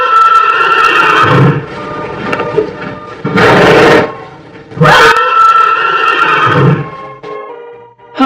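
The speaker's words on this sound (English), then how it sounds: "Horse." A horse neighs loudly and close, several long shrill whinnies with breathy snorts between them, heard on its own.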